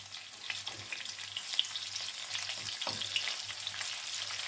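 Sliced red onions fry quietly in a pan for a zucchini flower stew, giving a soft, even sizzle with faint stirring and a low steady hum underneath.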